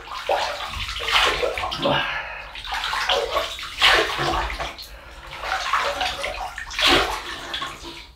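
Water splashes and sloshes in bursts as a face is wetted before a shave with a short open-comb double-edge razor, several close splashing pulses with brief pauses between them.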